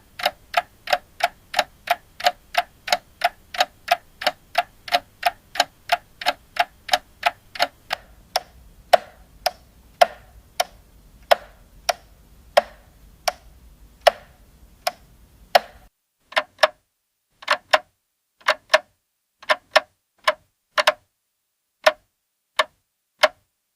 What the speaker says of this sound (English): generate a classic wooden metronome